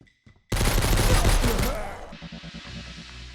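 Sustained rapid gunfire from a video game, a dense loud burst of shots lasting over a second before dropping to quieter scattered impacts and background game noise.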